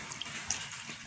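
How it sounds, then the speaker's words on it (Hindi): Water is poured into a lobia chaat mixture in a home kitchen, producing a soft continuous gushing splash with a few small bright spatters, brief and fairly quiet. "अब जितना खट्टा बनाना चाहते हैं उतना पानी डाल लें, थोड़ा सा और डालूँगी"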